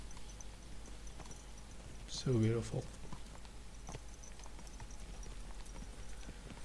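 Horse hooves clop in a short burst while riding through scenery in the video game Kingdom Come: Deliverance 2, heard under a man's brief spoken remark amid soft ambient game sound.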